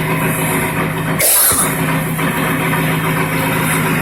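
A capacitor-assisted electric motor in a homemade free-energy setup runs with a steady, close, tonal hum, briefly broken by a short crackling burst before settling back into its even drone.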